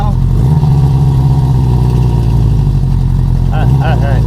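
A 1973 Honda CB350 Four motorcycle engine running loud and close, a steady droning idle that swells with a short throttle rev near the end, with people talking over it.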